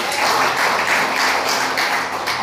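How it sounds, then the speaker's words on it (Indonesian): A church congregation at GBI Serimpi applauds, producing dense, loud, continuous clapping that fills the whole brief moment. "Tepuk tangan untuk Tuhan."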